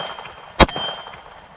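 A rifle bullet strikes a steel gong target, giving one sharp metallic clang with a short ringing tail over quiet outdoor background.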